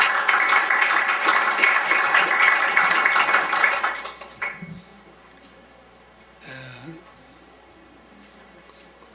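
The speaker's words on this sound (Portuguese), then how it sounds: "Peço uma salva de palmas." Applause from a workshop audience at the 57th Painel Telebrasil, a dense, steady clapping that fills the first four seconds and then fades out, followed by quiet room tone and a brief voice.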